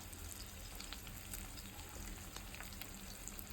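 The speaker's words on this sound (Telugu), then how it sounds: "దీంట్లో చిటికెడు పసుపు చిటికెడు కారం వేసుకొని కొంచెం ఫ్రై అవ్వనివ్వాలన్నమాట" Dried fish fries in a pan with turmeric and chilli powder, giving a faint, steady crackling sizzle with scattered small pops throughout.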